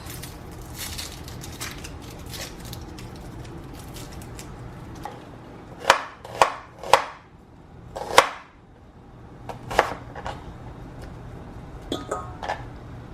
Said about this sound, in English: I'm gonna take half a red onion and just roughly chop it up